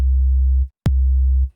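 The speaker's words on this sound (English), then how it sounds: "even with just a basic sine wave" Compressed basic sine-wave 808 bass from the Vital synth, two punchy sustained low notes each starting with a sharp click attack and held for about half a second, loud and alone.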